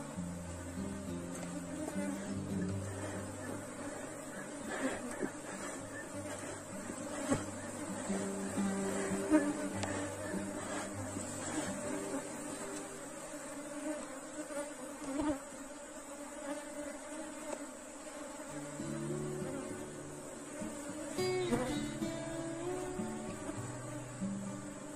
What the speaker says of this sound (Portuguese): Esse enxame aqui, ó, como ele tá um pouco mais agressivo